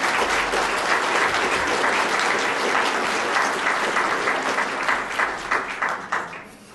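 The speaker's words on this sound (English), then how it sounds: "Let's give Ann a round of applause." An audience applauds after a talk at a lecture event, steady dense clapping filling the room for several seconds before thinning and fading out at the end, with no one speaking over it.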